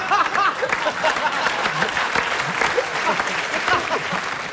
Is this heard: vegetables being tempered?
no